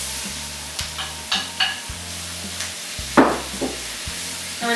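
Shallots hit melted butter in a preheated pan with a soft steady sizzle, broken by several clacking stirs and scrapes of a utensil, close and moderately quiet, no talk.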